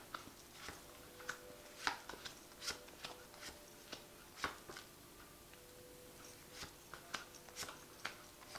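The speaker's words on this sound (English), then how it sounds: "I'm just going to draw some cards from it." Soft, irregular clicks and light slaps of tarot cards being drawn from a shuffled deck and laid down, close and quiet, spaced across several seconds with no talking.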